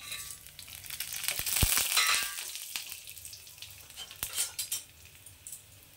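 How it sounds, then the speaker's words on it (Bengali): Whole cumin, coriander, garam masala and dry red chillies sizzle and crackle in hot oil for a South Indian–style fish curry, with a steady frying hiss, a few sharp pops and light utensil clinks close by. "এই তেলের মধ্যে আমি দিয়ে দিচ্ছি এই যে গোটা জিরে, গোটা ধনে, গোটা গরম মশলা আর শুকনো লঙ্কা"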